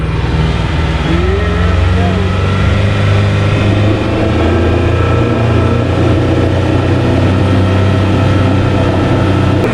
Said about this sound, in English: I think we're going to give this thing some throttle and just curious to see how she does